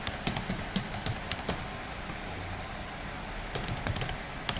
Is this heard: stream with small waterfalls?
no